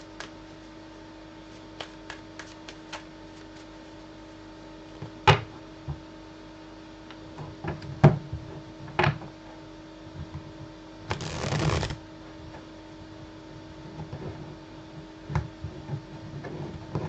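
Tarot cards are shuffled by hand close up in a quiet room, with scattered soft taps and snaps and one longer riffling burst near the middle.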